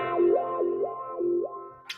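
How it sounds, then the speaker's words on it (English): Distorted electric guitar played through a wah pedal, three sustained notes swept in a vocal, rising-and-falling wah each time, loud and up close, ending with a brief bright click. "just use the wah"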